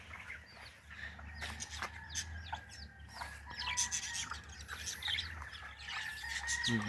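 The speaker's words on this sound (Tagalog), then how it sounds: "May manok pa yan kami." Chickens cluck and a rooster crows repeatedly outdoors in a garden in the British Virgin Islands, with scattered bird chirps over a low steady hum in the background.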